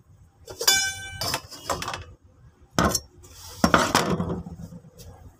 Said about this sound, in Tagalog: dahil yung aking kaserola ay walang takip, ito yung itatakip ko sa kanya